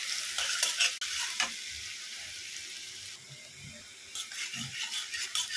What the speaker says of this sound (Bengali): তো পেঁয়াজটা দিয়ে একটু ভালো মতো আমি নাড়াচাড়া করে নিব।